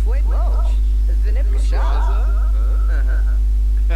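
A pet dog in The Sims 4 gives a few short yips and whimpering cries over steady background hum, mixed with chattering voice-like game sounds.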